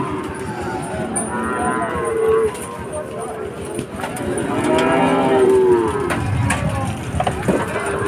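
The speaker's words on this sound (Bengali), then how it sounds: "দেখেন দেখেন গাড়ি গরু আসতেছে এখানে" Cattle moo repeatedly amid a busy outdoor crowd at the Chuknagar cattle market, long low calls rising over steady background chatter and bustle.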